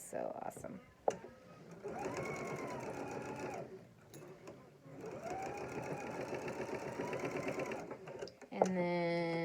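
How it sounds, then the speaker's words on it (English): A sewing machine stitching a fabric face mask, running in two long whirring, rapid-ticking bursts with brief pauses between, close by; a voice speaks near the end. "Then I'm going to sew just to that pin again."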